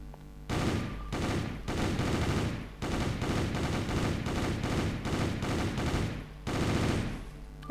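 Gunfire at a shooting site: bursts of rapid, loud shots in quick succession, separated by brief pauses, close and dominant with no talking.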